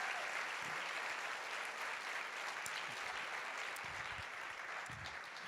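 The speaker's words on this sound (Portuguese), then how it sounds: "dê uma salva de palmas para Jesus" Church congregation applauding steadily throughout, a dense, sustained wash of clapping at moderate level with no clear voices.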